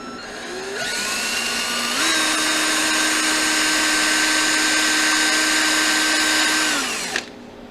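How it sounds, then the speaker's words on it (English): A power drill bores steadily into a block of frozen milk, spinning up, then holding a loud, even whine for about five seconds before winding down with a faint knock at the end. "And I'm going to just drill right into the milk."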